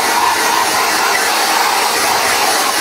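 A handheld hair dryer blows on hair to tame strands that stick up, a loud, steady, close-up airflow roar that never varies and fills the whole moment with no talk over it.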